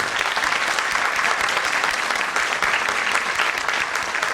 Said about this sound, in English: huge round of applause for all the teachers.